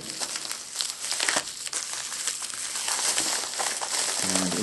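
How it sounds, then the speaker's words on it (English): Close crinkling and rustling of a plastic bag holding a Google Nexus 5 bumper case, with a few sharp scissor snips and tearing sounds, irregular and fairly loud. "Let's grab my trusty scissors and open this up."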